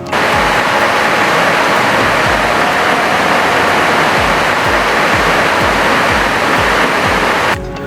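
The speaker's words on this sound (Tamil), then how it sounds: "இது தாட் தைச்சுவா அருவி." Tad Taichuwa, a huge waterfall in Laos, pours with a loud, constant rushing roar heard up close, a dense wall of falling water with no voices.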